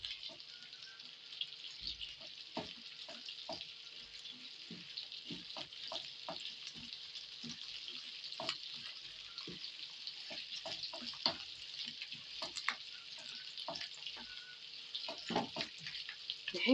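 Offal sautéed in rendered fat and a little oil in a pan sizzles steadily and close, with scattered clinks and scrapes of stirring throughout.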